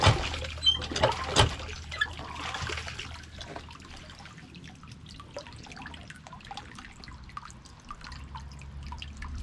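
Water trickles and drips from an old-school drinking fountain as its knob is twisted to fill a gallon jug, a steady soft running flow with a few louder splashes near the start.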